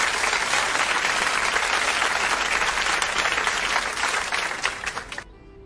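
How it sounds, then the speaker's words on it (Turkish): A burst of studio applause sound effect at the opening of a live broadcast show, dense steady clapping from a crowd that tapers off and stops abruptly near the end. "alkış efektini verdim"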